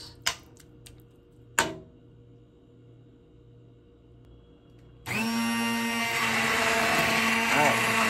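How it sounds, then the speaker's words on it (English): A hand blender purees tomato meat sauce for lasagna in a pot, starting abruptly after a few clinks and running loud and steady with a whirring motor and a slight pitch wobble as it churns. "I'm gonna mix in the meat sauce to this, but I will get the hand blender out."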